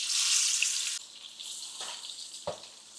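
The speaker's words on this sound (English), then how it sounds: "These are the seasoned salmon and I am getting ready to fry them." Seasoned salmon bites fry in a pan over medium-low heat, with a bright, steady sizzle for the first second, then a quieter crackle and a few short clatters.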